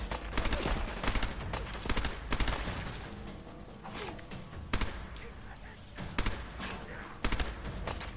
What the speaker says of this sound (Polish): Dwie serie z karabinu poszły w psiaka.